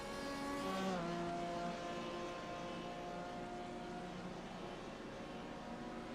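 A race car in a Road America racing video game runs down pit road on the rev limiter, its engine holding a steady, buzzing, slightly faint drone after a quick downshift near the start.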